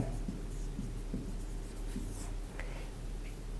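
A pen scratches steadily across paper as a maths solution is written out, a continuous soft scribbling close to the mic over a low background hum, with no talk.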